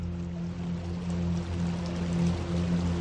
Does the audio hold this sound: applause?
no